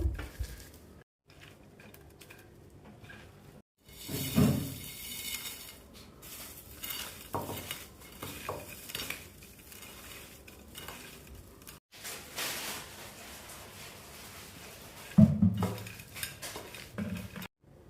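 Chanachur being mixed with tamarind and salt in a bowl, irregular clinks and scrapes of a spoon against the bowl with rustling bursts and short pauses, close and fairly quiet.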